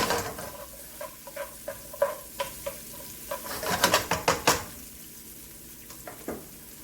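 Onions and spiralized zucchini noodles cooking in a pan, a quiet continuous sizzle broken by a series of close scrapes and taps of a utensil stirring against the pan, with no talk.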